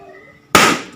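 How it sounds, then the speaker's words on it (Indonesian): A balloon without tape is pierced with a sharp needle and bursts in one loud, sharp pop after a quiet moment, its noise trailing off quickly. "tusukkan jarum ini kepada balon yang tanpa dilapisi selotip"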